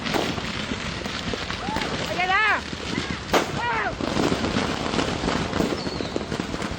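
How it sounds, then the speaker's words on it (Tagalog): Loud New Year fireworks explosions crackle and pop in quick succession amid a noisy outdoor scene, with whistling rising tones cutting through the blasts. "Habang tuloy-tuloy at sunod-sunod ang mga pagsabog"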